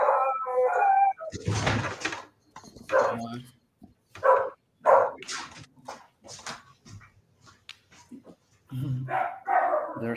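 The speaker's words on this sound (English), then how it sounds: "there's a dog that is how do you say barking, Yeah. barking outside the house" A dog barks and howls outside a house, repeated yips and bow-wows in uneven bursts, fairly loud and close, with people talking between and over the barks.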